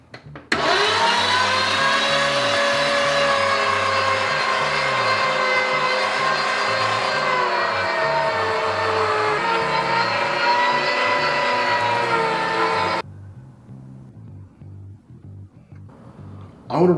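An electric meat grinder working meat for chorizo sausage runs with a steady, loud motor whine and hum for about twelve seconds, then cuts off into quiet room noise.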